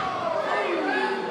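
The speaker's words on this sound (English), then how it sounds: "our fans vocalizing their opinions out there" A wrestling crowd of fans shouts and roars in a dense, continuous wall of voices, loud and sustained throughout the short moment.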